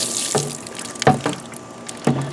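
Water poured onto the soil of potatoes planted in a container, a soft continuous trickle with a few brief splashes and drips, close and moderately quiet.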